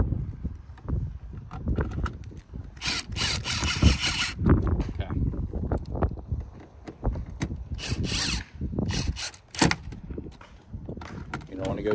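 A power drill drives factory screws back into a plastic third brake light housing on a Ford Super Duty truck, with several short loud whirring bursts close up, and a person talks between them.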